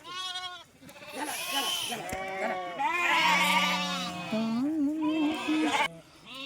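Sheep and lambs bleat repeatedly in a rainy-season flock setting, several overlapping wavering calls close by and fairly loud, filling most of the stretch.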